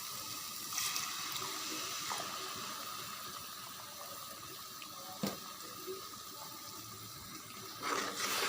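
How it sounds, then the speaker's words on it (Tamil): Half a glass of water poured into a pan of spicy Rajasthan fish gravy, heard as a steady, fairly faint trickling stream throughout with a few small splashes. "நம்ம ஒரு 1/2 கிளாஸ் வாட்டர் ஆட் பண்ணிக்கலாம்."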